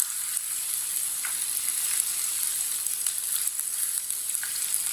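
Bitter gourd (karela) frying in a pan over medium heat, a steady hiss and crackle of sizzling oil with faint scattered pops, alone at moderate level.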